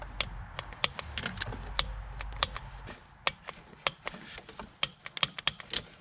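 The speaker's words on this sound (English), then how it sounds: "next step is torquing the throttle body down. We're gonna torque it to 14 foot-pounds in a cross pattern" A ratcheting torque wrench snugs down the throttle body bolts on a 1996–2001 Toyota Camry 1MZ-FE V6, worked in a cross pattern to 14 foot-pounds. Sharp, close metallic clicks come in irregular bursts over a low hum.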